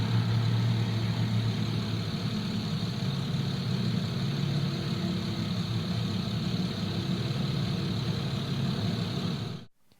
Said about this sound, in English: You could hear her car running as she was standing outside of her car.